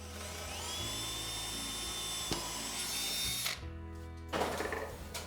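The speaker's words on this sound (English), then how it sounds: "I'm just gonna drill right down into the middle of this wood" A power drill bores into wood during a trim carpentry job, a steady whining motor note that runs for several seconds, stops, then bites again briefly, close and fairly quiet.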